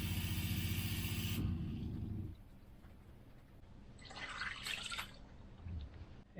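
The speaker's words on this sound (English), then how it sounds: "Gonna put a cup of water in there to start." Water poured from a cup into a pot of simmering Filipino chicken adobo made with peppercorns, lemon, vinegar and bay leaves, cooked aboard a Catalina 30 sailboat; a brief splashing pour follows a low engine-like rumble, then a bubbly hiss near the end.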